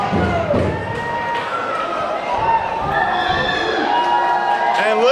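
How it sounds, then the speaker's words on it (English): At a professional wrestling show, the arena crowd cheers and shouts, with thuds from the ring, while a commentator talks over the noise. "listen to the crowd behind Paloma and Cody"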